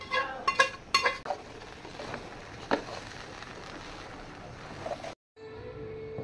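A metal spoon stirs cooked meat and boiled rice together in a pot for biryani, giving a few sharp clinks and scrapes early on, then softer shuffling and a lone clink before the stirring quiets.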